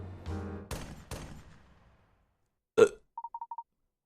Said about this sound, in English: That sounded like gunshots.